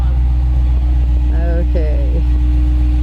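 A 2015 Dodge Challenger R/T Plus with a 5.7 Hemi and FloMaster American Thunder exhaust idles in a loud, steady low rumble, while a voice speaks briefly over it partway through.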